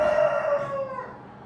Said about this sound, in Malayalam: കോഴി എന്തിനോ വെറുതെ കരയുന്നു